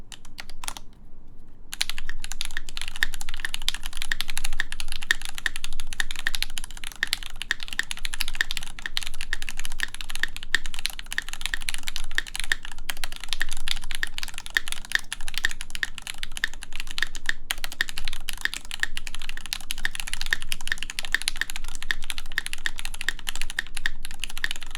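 Continuous fast typing on a mechanical keyboard fitted with an ABS spacebar, dense rapid clacks with no pause beyond a brief gap near the start, close and loud, with no voices.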